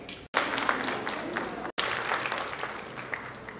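Audience clapping at a district police event in a Nawanshahr palace honouring women police officers, a steady burst of applause with two brief pauses, loud and close throughout.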